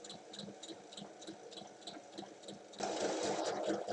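Domestic sewing machine stitching a side seam of a tote bag, a steady rapid mechanical patter of needle strokes that grows louder and denser near the end, close and with no voices.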